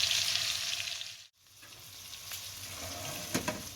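Salmon fillets sizzle steadily in a hot frying pan, a dense crackling hiss that briefly drops out for a moment before resuming at full strength, with no voices.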